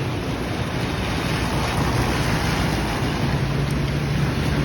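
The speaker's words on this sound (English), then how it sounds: "there goes a cab through the water" A car drives through water on a flooded street during morning rain in Chapala, giving a steady broadband rush and spray of water with no speech.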